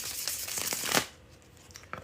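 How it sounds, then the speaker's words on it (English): A deck of playing cards riffled in a bridge shuffle, a loud close rapid flutter of cards lasting about a second, then a quieter settling as the cards fall together. "I'm about to do the bridge shuffle."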